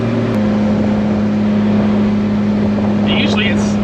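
A 2JZ engine swapped into a BMW E30 with a DCT gearbox and 6466 turbo runs steadily while warming up, a loud constant drone with a low hum and faint higher whistles; someone talks over it.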